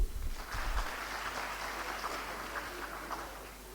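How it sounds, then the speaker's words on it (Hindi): Audience applause at a school event, a "Samarpan Diwas" program at Bhaurao Devras Saraswati Vidya Mandir in Noida: dense, steady clapping from a crowd, loud at the start and holding for several seconds before easing slightly. "एक बार जोरदार तालियां।"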